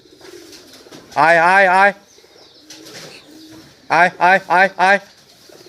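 Pigeons coo in rolling, throaty bursts while being fed rice mixed with curry, one long coo near the start and a quick run of several later, close and loud, with a person calling to them between.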